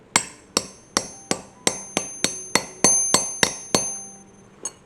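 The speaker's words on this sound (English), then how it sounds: "And then we're going to smash it with a hammer." A hammer strikes a metal eyelet-setting tool about a dozen times in a steady rhythm, each blow a sharp, ringing clink, close and clear, with one lighter tap at the end.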